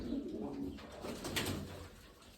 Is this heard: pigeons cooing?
yes